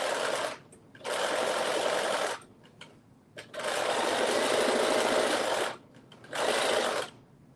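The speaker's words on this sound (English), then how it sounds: "we are going to stitch this, and then we are going to serge this too, because this fabric also kind of starts coming unraveled" A sewing machine stitches and serges fabric in three steady motor bursts, each lasting one to two and a half seconds, with short quiet pauses between them. Close and loud, with no talk.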